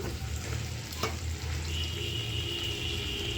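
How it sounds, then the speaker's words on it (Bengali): Cauliflower, potato and flat beans frying in oil, with a steady close sizzle throughout and a brief clatter partway in, with no talking. "এখন এই যে ফুলকপি,"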